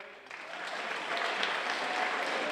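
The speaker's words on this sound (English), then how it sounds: "we can give them a round of applause for what a great accomplishment" An audience applauds at a senior awards ceremony, a steady wash of clapping that swells slightly and holds, moderately loud and continuous with no talk over it.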